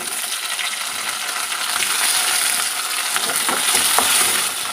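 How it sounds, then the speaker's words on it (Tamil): Tomatoes sautéing with fried onions in a pan for a mango tamarind curry: a steady hiss of frying, with light scraping and clinks from stirring throughout, no voices. "இப்போ நம்ம தக்காளி போட்டு நல்லா வதக்கலாம்"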